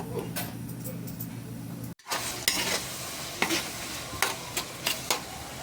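Ground pork or beef giniling sizzles in a frying pan while a utensil scrapes and stirs it in repeated sharp strokes, loud and close.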